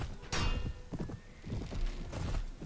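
A horse whinnies loudly in a Mount & Blade Warband battle, followed by clopping hooves and scattered clanks of combat, with no talking.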